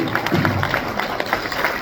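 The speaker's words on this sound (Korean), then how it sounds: "한번 일어나셔서 우리 박수 한번 쳐주시죠" Audience at a year-end community gathering applauding, a brief burst of clapping from a seated crowd at moderate loudness.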